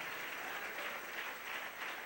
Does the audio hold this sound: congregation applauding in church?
yes